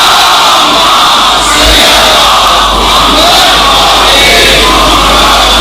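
A large religious gathering loudly chanting salawat in unison in response to a preacher, a dense, roaring wall of many voices that fills the space continuously, close and overwhelming.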